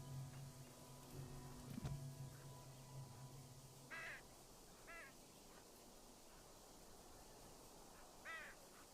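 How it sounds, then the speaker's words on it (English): A raven caws in the Dragon Age video game, a few faint, hoarse calls spaced apart over quiet background ambience, with a brief low thump early on. "I hear the raven somewhere, but I don't see it."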